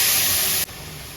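Water poured into hot oil holding ginger-garlic paste, cinnamon, cumin and garam masala: a loud, close, hissing burst for about half a second, then cutting sharply to a faint lingering simmer.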